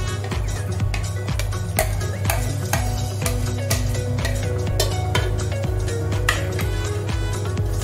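Tomato, garlic and ginger sizzle in hot oil in a pan while a metal spoon clinks and scrapes repeatedly against the pan's sides throughout.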